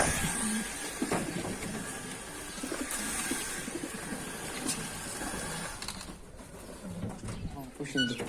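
Adana pigeons coo and chirp outdoors in a steady, busy wash of bird sound and flutter, with voices talking in the background throughout.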